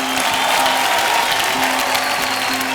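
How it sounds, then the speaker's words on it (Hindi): Studio audience on an Indian TV game show claps steadily for about three seconds, a dense even patter with a faint tonal music bed running underneath. "थैंक यू, तालियां मेरे लिए।"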